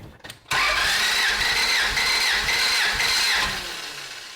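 A Honda Prelude engine cranks on the starter during a compression test of cylinder 3. After a brief clatter comes a steady, loud, rhythmic churning for about three seconds, which then fades and winds down.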